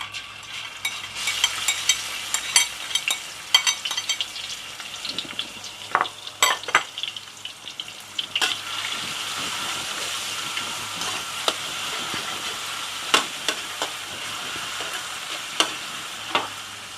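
Condiments for pork rendang sizzling and frying in hot oil, a steady close hiss broken by repeated scraping knocks of a spatula stirring the pan, with no talking.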